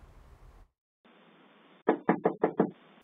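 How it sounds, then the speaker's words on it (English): Five quick, firm knocks on a front door, captured by a porch security camera, coming as an evenly spaced burst after a short stretch of faint background hiss. "What appeared to be an unsuspecting knock on the door"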